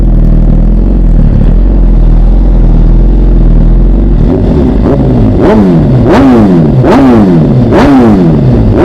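A 2025 Suzuki GSX-R1000R fitted with an M4 titanium exhaust idles loud and steady, then snaps through four or five quick rising revs that fall back between blips, close up with no talk.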